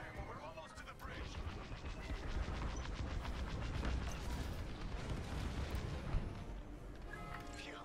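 A capital-ship carrier explodes during a space battle in Star Wars: Squadrons, a long roaring rumble of detonations and crackling blasts that swells and sustains, with a brief sharp burst near the end.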